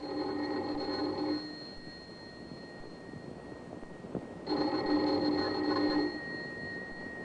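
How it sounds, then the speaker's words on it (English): A doorbell rings as a radio drama sound effect, two bursts of steady electric bell ringing about three seconds apart, with a quieter hum in the gap between them. "Let's begin this tale with the ringing of a doorbell."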